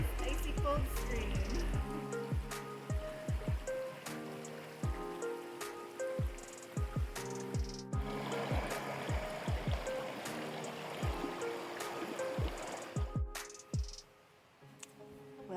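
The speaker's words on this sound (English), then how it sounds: "Soaking your feet in that nice icy cold stream." An icy cold stream on the Appalachian Trail trickles and splashes as feet soak in it, with close, repeated droplet plinks over a steady watery wash.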